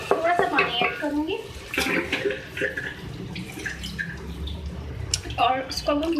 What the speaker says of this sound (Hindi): इसमें जो है मैं थोड़ा सा पानी ऐड करूँगी